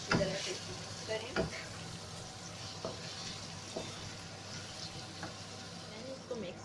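Minced meat for khade masale ka keema being stirred in a pan, a soft sizzle with a string of scraping spoon strokes, fairly quiet and close.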